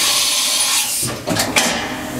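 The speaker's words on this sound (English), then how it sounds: "right now we're gonna go ahead and do a tool change real quick." A Haas Super MiniMill vertical machining center performs a tool change, with a loud, close hiss of air followed by a couple of mechanical clunks and clicks, and no talking.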